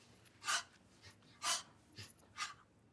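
Tiger breathing yoga exercise, with forceful panting breaths in a slow rhythm of about four exhalations, faint and close, with no talking.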